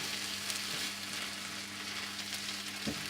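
Risotto rice sizzles steadily in a pan with wine just poured in, a dense close hiss with a faint low hum beneath and a couple of soft stirring knocks, no voices.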